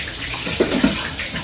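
Water poured or splashing briefly into a container, a couple of soft splashes over a steady running-water wash, close and moderately loud, no talk.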